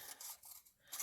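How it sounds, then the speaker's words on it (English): Scissors snipping paper for a Christmas craft treat box, a few short dry cuts in quick succession, close and quiet with no talking. "My scissors are not that good."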